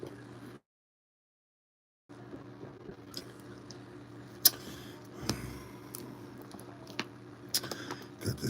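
Someone chews a sandwich close to the microphone, soft wet mastication with irregular bites and squishes, broken by a brief silent gap near the start.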